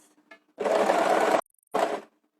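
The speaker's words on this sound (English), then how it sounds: "if I push the pedal slowly and then I move this fast, you're going to get longer stitches" A sewing machine stitches free-motion embroidery in two bursts, a long steady run followed after a short pause by a briefer one, close and fairly loud with no voices.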